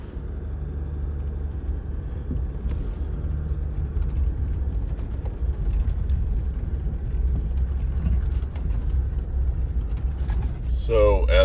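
A vehicle climbs a mountain road toward Shuteye Peak, with a steady, close, low engine and road rumble that holds throughout and swells slightly near the end.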